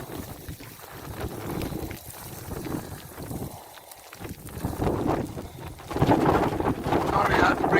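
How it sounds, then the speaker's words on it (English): Strong wind at a volcano over crumbled lava fields on La Palma, a steady loud roar and buffeting against the microphone, easing briefly in the middle and then rising to heavy, continuous gusting. "the wind is very strong"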